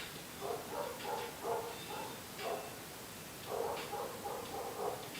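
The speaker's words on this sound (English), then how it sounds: "Yeah, it's definitely two dogs." Two dogs bark outside at a distance, fairly faint, in irregular bursts of several barks each with brief pauses between them.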